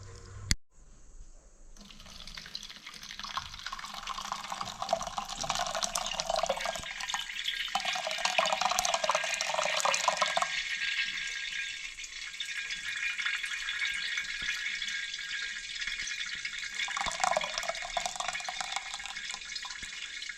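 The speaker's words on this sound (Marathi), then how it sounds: "राहिलेलं आपलं हे पाणी गाळून वतणार आहे आपण" Water strained from soaked, squeezed wheat runs through a sieve and cloth in a steady close trickle, quiet and continuous, with no voices.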